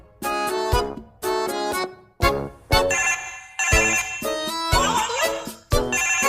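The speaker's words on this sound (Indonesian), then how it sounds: "suara telepon lu sangar banget" A loud, bright phone ringtone in Sakura School Simulator plays in repeated bursts, a melodic synthetic tune with short gaps between phrases, no voices.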